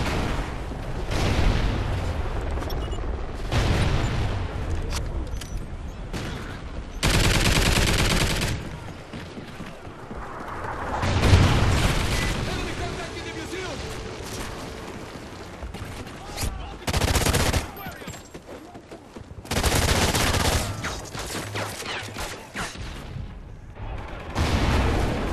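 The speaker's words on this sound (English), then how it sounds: "Sentry gun ready to roll." Sustained automatic gunfire from a deployed sentry gun in a Call of Duty Ghosts DLC match on the Bayview map, loud bursts recurring across the clip amid explosions and other battle noise.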